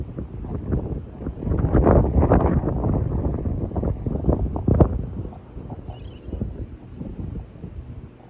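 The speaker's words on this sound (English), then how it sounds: "Windy now, so if you can't hear me, I'm sorry, but I can't do anything about it." Strong wind buffets a microphone outdoors beside railway tracks, loud rumbling gusts that rise and ease in waves, with no speech over it.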